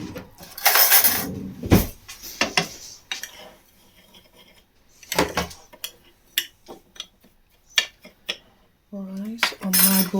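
A metal utensil clinks and scrapes against a bowl as two ingredients are mixed in a home kitchen, with irregular close taps and rattles separated by brief pauses.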